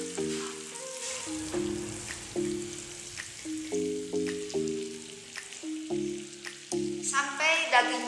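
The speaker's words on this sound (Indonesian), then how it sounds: "Sekarang kita goreng meatballnya." Meatballs fry in a hot pan, giving a steady crackling sizzle with occasional stirring, while music with a stepping melody plays underneath.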